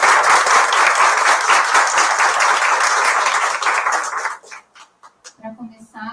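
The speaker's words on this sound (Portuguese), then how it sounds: "vamos dar uma salva de palmas para os nossos convidados para recebê-los" Dense audience applause welcoming guests to a panel on psychological assessment in sport, loud and sustained for about four seconds before fading into scattered claps and quiet room noise.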